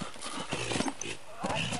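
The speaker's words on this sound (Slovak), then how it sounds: "A opäť skúšame doviesť koňa na správne miesto." Horse hooves thud on wet, slippery ground during show jumping training, a few irregular clip-clop beats close by, with people talking over them.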